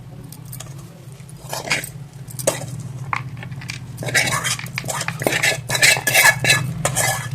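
A spoon clinks and scrapes against a plate and bowl as a sticky date and cashew laddu mixture is spooned out, in a run of irregular close metallic taps and scrapes over a steady low background hum.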